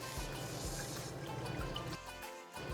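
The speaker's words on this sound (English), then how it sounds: "using the same pan, in goes the broth" Broth is poured into the same pan that held sweet peppers for spicy beef noodles, a soft, steady liquid stream and trickle heard close that stops near the end, with no one speaking.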